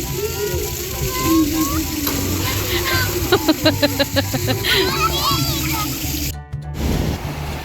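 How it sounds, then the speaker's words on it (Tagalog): Strong waves wash and slosh steadily around a swimming spot, a continuous churning water noise with voices and children talking over it throughout. "Malakas ang alon."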